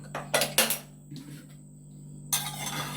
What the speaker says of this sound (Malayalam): നമുക്കൊന്ന് കുക്കർ തുറന്നു നോക്കാം